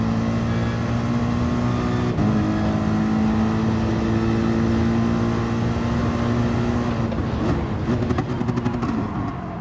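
An AMG race car engine in a sim racing game at the Nurburgring GP drones loudly and continuously, holding a steady pitch before shifting and rising toward the end, with no talk over it.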